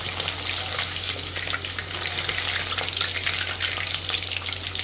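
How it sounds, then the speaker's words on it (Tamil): Pieces fried in hot oil a few at a time for a chicken biryani meal, giving a steady, loud, close sizzle with constant hiss and no pauses. "கொஞ்சம் கொஞ்சமாக போட்டு நல்லா ஃப்ரை பண்ணி எடுத்துக்கணுங்க"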